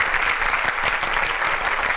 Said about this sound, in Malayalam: കൈയടിക്ക് നന്ദി.